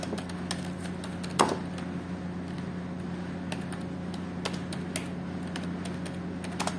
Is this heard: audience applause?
no